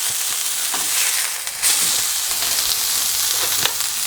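A steak sears in a very hot pan with a loud, close, continuous sizzle and hiss, and occasional crackles and pops.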